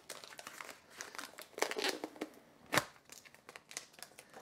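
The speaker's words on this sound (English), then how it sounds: "it is covered in this protective coating that I need to get off. So I'm just gonna peel that off" Protective plastic film being peeled off a 20 gauge metal sheet, giving soft crackling and crinkling with a few sharper ripping bursts, close and fairly quiet with no voices.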